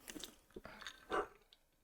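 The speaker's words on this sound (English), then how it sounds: "SB's barking at you" A small pet dog barks briefly in a quiet room, a couple of short, fairly faint yaps set among light rustling.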